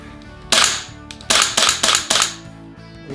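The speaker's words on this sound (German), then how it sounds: "Man hört auch so ein bisschen diesen Elektro-Sound, also wie hier das Ganze nach hinten gespannt wird, aber halt das Knallen von dem Bolt, wenn er nach vorne geht." A GBLS DAS GDR-15 airsoft AEG with electric gas blowback fires four loud, sharp close-range shots, each bolt snap ringing briefly, spaced roughly half a second to a second apart over a low background hum.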